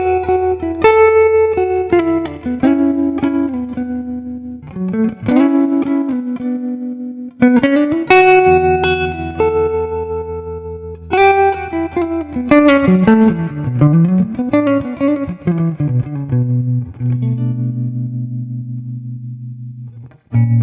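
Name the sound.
electric guitar with tremolo effect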